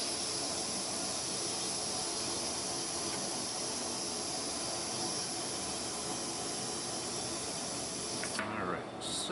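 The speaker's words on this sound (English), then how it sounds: "Relieve some pressure." A steady, loud hiss of pressurized gas escapes continuously from a relief valve on a Fermentasaurus fermenter, broadband and unbroken, with a brief sputtering change near the end.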